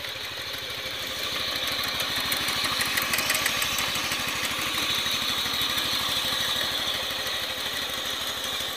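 A tractor-pulled potato digger with a vibrating sieve runs steadily, its engine giving a continuous, loud, even drone close by with a rapid mechanical shaking throughout and no voices.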